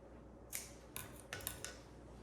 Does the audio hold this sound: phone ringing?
no